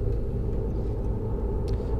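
Flixbus coach engine in Fernbus Simulator cruising along the A9 in Germany, a loud steady low rumble with road drone, constant throughout and without talk.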